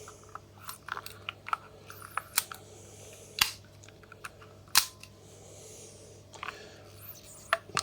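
Film being wound on in a Zeiss Ikon Contina 35mm camera loaded with Fujifilm C200, a series of sharp close mechanical clicks and ratcheting snaps at irregular intervals over a quiet background, no talking.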